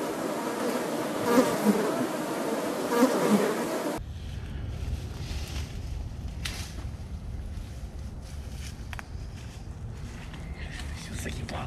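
A buzzing swarm of mutant mosquitoes, a dense insect drone that is loud at first, then drops to a lower, steadier hum as the scene cuts, with someone talking over it.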